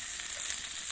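Vegetables frying together in a pan over a village clay stove, with salt and green chillies, give off a steady, close hiss of sizzling oil that fills the whole short moment.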